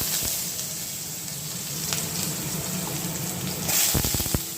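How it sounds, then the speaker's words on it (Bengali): Potato pieces frying in a pan for a Bengali shukto, a dense continuous sizzle close up, with a brief water splash and a few clinks near the end, no voices. "সবার প্রথমে আমি একটু আলুটা ভেজে নেব।"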